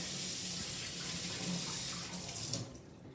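Tap water running steadily into a kitchen sink while hands are washed during adobo cooking, a continuous close splashing hiss that cuts off near the end.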